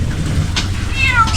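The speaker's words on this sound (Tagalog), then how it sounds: "Pusa." A cat meows once or twice in a rural Filipino home, a short mid-pitched call over steady low background rumble, fairly close.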